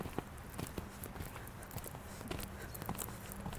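A horse canters in a riding arena during a coaching session, faint distant hoofbeats in an uneven rhythm over a quiet background.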